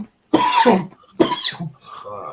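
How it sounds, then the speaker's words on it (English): Two sharp, close coughs in quick succession, followed by a brief muttered word. "it's illegal to cough in 2023"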